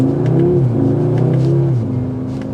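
A 2023 Audi S3 pulls away from a green light, its engine note loud and close with a steady droning hum that climbs and then drops as it shifts, without any talking.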